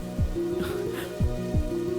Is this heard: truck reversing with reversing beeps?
no